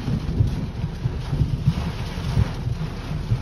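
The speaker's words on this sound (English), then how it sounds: "Downpour." Heavy rain pours down in a constant hiss while low rumbles of thunder roll beneath it, close and continuous.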